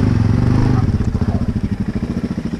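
A motorcycle engine idles with a throbbing, pulsing rumble, loud and close, settling into a steady uneven chug.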